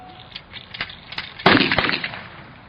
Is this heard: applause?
no